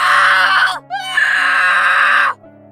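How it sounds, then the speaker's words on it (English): A shepherd boy screams for help as a wolf attacks his sheep: two loud, high wailing cries close by, split by a brief break and ending abruptly. "The boy kept screaming for help, but no one turned up this time."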